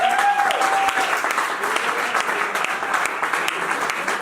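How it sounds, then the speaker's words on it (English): Audience applause at an opening night art talk, a dense, even wash of clapping from a crowd that holds steady for several seconds. "So yes, one more round of applause, please."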